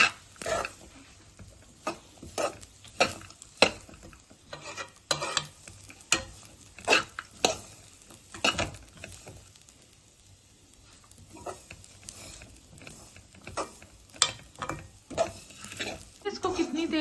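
A Himachali rice mixture with unshelled peanuts roasts in a pan for Lohri, with repeated scraping and stirring strokes of a spoon against the metal and a soft sizzle between them, close and fairly quiet.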